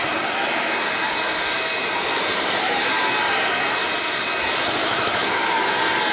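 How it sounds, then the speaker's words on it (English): A Vax Air Cordless Lift Duo cordless vacuum runs with a steady, loud motor whine and hiss as its floor head is pulled back against the carpet pile, juddering, with faint rumbling modulation beneath the continuous drone. "You see the way when you pull it back, the floor head judders."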